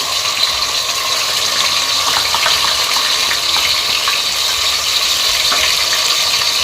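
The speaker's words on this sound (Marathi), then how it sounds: "ही जी पेस्ट आहे ती टाकते सगळी" A paste of ginger, garlic, coriander and mint hits a hot pan for a Maharashtrian mutton sukha, giving a loud, steady, close sizzle with faint crackles throughout and no talk.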